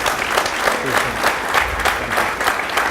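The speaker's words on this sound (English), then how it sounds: "Let's give him a round of applause" A crowd at a gubernatorial forum on higher education claps steadily, a dense wash of hands kept up evenly for a few seconds, fairly close and loud.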